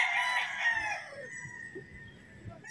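Roosters crow at a gamefarm, one loud nearby cock-a-doodle-doo at the start trailing off, followed by faint clucking and farmyard noise.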